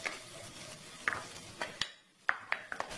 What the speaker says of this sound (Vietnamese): Cô bác cho tỏi vào đây và chúng ta phi cho thơm lên